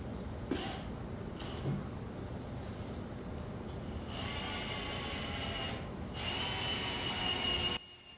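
A power drill bores into a snapped-off bolt on a Kubota plow project, whining steadily and close with slight pitch shifts, briefly stopping and restarting before cutting off near the end.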